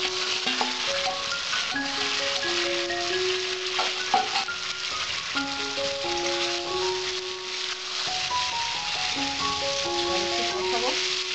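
Cauliflower frying in a pan for a Bengali aloo phulkopi dalna sizzles steadily, with stirring and clinks of a spatula under light background music.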